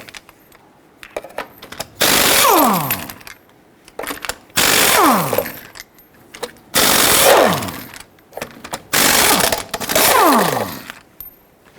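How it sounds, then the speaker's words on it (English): Impact wrench bursts loosen the lug nuts on a Toyota Tundra wheel with a 22mm socket: four loud, sustained whirring rattles, each a couple of seconds long and falling in pitch, separated by quieter clicks and handling noises. "let's go ahead and loosen and remove your lug nuts"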